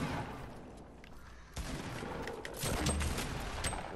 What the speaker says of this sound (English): They're shooting down at you.